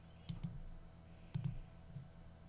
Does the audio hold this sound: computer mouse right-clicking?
yes